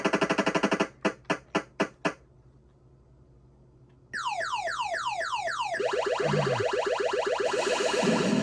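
Missiles firing in an Atari 5200 video game: a rapid run of electronic zaps, then a short pause, then fast repeating descending laser-like sweeps that build into a dense, continuous barrage, loud and close with no talking.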